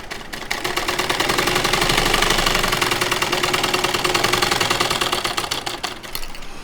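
A sewing machine stitches a side pocket onto palazzo pants, running in a fast, steady mechanical chatter of rapid needle strokes, loud and close, with no talk.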